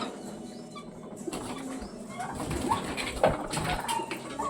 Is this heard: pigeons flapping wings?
yes